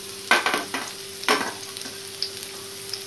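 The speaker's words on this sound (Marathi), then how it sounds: "ते चांगले मी गुलाबी होईपर्यंत परतणार आहे" Two medium-sized chopped onions fry in a pan, a quiet steady sizzle broken by several close scraping stirs that come in short bursts.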